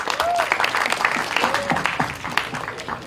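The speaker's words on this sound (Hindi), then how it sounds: "भूषण जी को एक बार जोरदार ताली चाहिए" Loud applause from an audience at an event for the film Border 2, a dense steady patter of many hands clapping with voices mixed in beneath.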